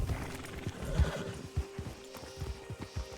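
A horse in a Red Dead roleplay game neighs and whinnies while its hooves clip-clop in an uneven rhythm, close and clear with no talking.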